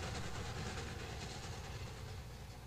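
A train runs through the Columbia River Gorge, a steady, dense rumble and roar with a faint rhythmic clatter, continuous and fairly loud for the whole stretch.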